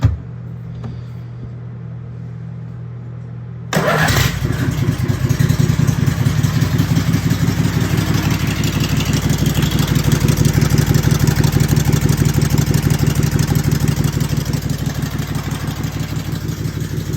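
An Evinrude Sleigh-Mate go-cart engine turns over and catches after a few seconds, then settles into a loud, steady, buzzing run close by, with no talking over it.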